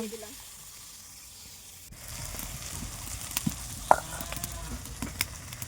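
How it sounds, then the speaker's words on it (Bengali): Fish fry in hot oil in a wok: quiet at first, then a close, crackling sizzle with scattered sharp pops and spits, fairly soft overall. "মাছগুলো দেখো সব তেলের মধ্যে কিন্তু দিয়ে দিয়েছি"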